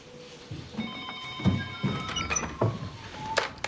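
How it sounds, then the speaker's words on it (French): A telephone rings in a quiet room, a couple of bell-like tones with a faint sliding or door-like knock, no one speaking over it. "Dolores, téléphone."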